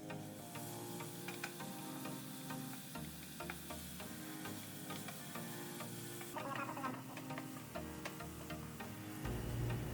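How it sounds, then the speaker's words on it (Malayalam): Onion and tomato sautéing in a pan for a Kerala-style prawn dish, a low continuous sizzle with scattered ticking scrapes and stirring noises, close and quiet, no voices. "ഉള്ളി ഒരു ചെറിയ ബ്രൗൺ കളറായി വരുമ്പോൾ ഇതിലേക്ക് തക്കാളി ഇട്ട് കൊടുത്തിട്ട് നന്നായിട്ട് മിക്സ് ആക്കാം"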